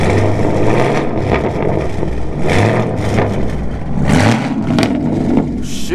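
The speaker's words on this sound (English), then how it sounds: "You can rev it, but no, you rev it, but not yet." A Chevrolet Camaro ZL1 engine revs loudly and close by, with repeated rising and falling surges of mid-pitched engine roar that fill the whole clip.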